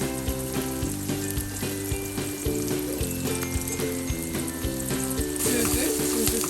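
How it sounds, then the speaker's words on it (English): Food sizzles steadily and loudly in a hot frying pan, with a dense crackle throughout and a faint whine in the background. "nice heat, sizzling"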